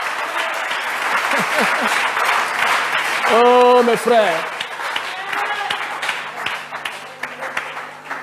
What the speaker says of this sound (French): Est-ce qu'on peut applaudir pour Frère Branham?